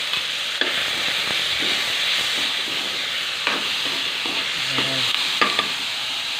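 Chopped tomatoes sizzle and fry in a pan while squid adobo is being cooked, a steady crackling hiss with occasional clinks and stirring scrapes, close and without talk.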